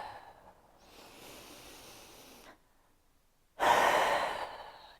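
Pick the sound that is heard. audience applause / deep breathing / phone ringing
deep breathing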